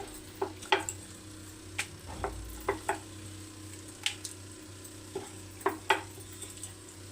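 Luchi, small rounds of rolled atta and maida dough, frying in hot oil, giving off scattered sharp crackles and pops over a steady low background hiss, with no voices.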